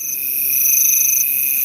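Crickets chirp in a steady, high continuous trill, loud and unbroken, with no voices present.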